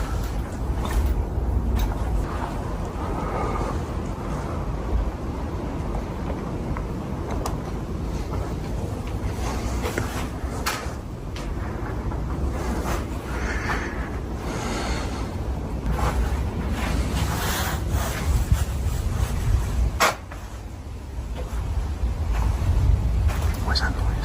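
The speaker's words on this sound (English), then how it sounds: "Oh, it's windy through here." Strong wind rushes and buffets the microphone continuously, a loud broadband roar with gusting swells, while voices talk over it.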